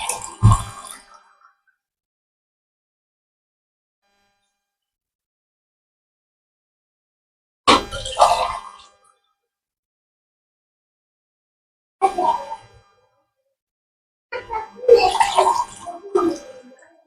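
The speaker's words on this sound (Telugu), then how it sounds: "ఇప్పుడు అయితే నేను 4 గ్లాసుల వాటర్ యాడ్ చేస్తున్నాను" Water is poured into a pot of vegetable biryani in four separate splashing, gurgling bursts, separated by silence, close by with no talking.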